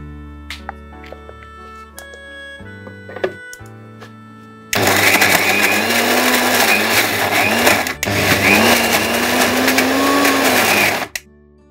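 A mixer grinder runs loud and steady for about seven seconds, grinding large cardamom seeds, salt and spices into a fine paste, its motor whine dipping once briefly before cutting off; quieter kitchen clatter comes before it starts.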